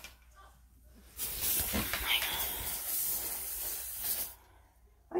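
An insecticide spray can sprays ants on the floor with a close, steady hiss lasting about three seconds, bracketed by quiet moments.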